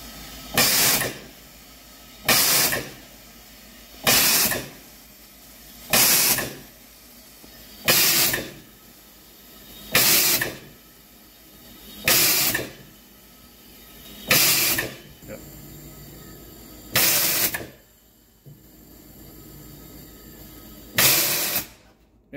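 A USUN GB40-OL single-stage gas booster runs in an even cycle, giving about ten loud hissing strokes at roughly two-second intervals over a steady mechanical background.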